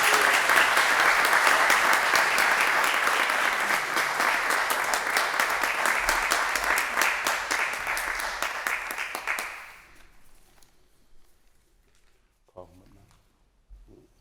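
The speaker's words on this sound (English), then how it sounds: "Can you give him a round of applause?" An audience at an EMS promotion ceremony gives a sustained round of applause that fades out after about ten seconds, leaving near silence with a few faint sounds.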